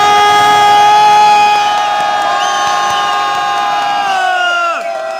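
A concert crowd in a hall cheers and shouts loudly, a dense roar with whoops that holds strong and then fades slightly toward the end.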